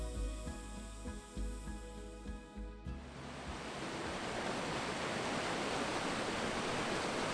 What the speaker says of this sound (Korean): 산에서는 시원한 계곡물이 쏟아지고